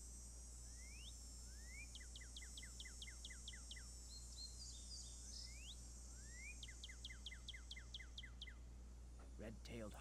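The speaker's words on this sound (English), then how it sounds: "Northern cardinal." Northern cardinal song from the Nancy Drew video game, two bursts of rapid repeated whistled slurs, clear and close, over a steady low hum, with a brief extra chirp near the end.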